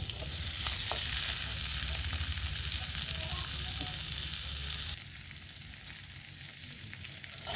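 Two potatoes fry alongside spiced goat trotters for mutton paya in a pan, giving a loud, dense close-up sizzle that drops to a quieter hiss partway through.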